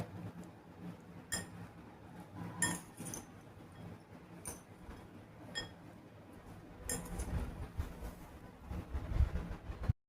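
Weight-loss bhel is stirred in a bowl, soft rustling of puffed rice broken by scattered light clinks of a spoon against the bowl, quiet and close, with irregular bursts of mixing.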